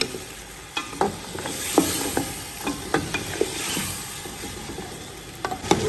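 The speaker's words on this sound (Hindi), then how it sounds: "अब 100 ग्राम दही डाला है और इसे 5 मिनट के लिए भूनेंगे" Beef frying with yogurt in a pot for nalli nihari, a steady sizzle under repeated scraping and stirring knocks from a spoon, close and moderately quiet, no voices.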